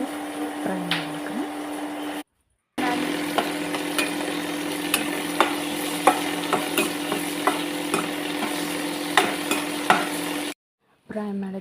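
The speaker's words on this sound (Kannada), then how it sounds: "ಈಗ ಅದಕ್ಕೆ ಕೊತ್ತಂಬರಿ ಹಾಕ್ಕೊಂಡು ಫ್ರೈ ಮಾಡಬೇಕು." Coriander frying in a pan makes a continuous sizzle, broken by regular scraping and tapping from a stirring utensil, with two brief silent gaps and a low steady hum underneath.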